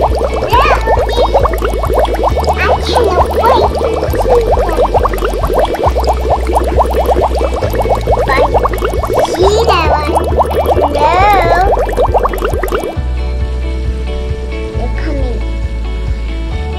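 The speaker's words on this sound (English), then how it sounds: "The volcano eruption that bubbles up to" A home volcano science experiment erupts with continuous loud bubbling and fizzing liquid, steady and close throughout, with a faint rhythmic background beat.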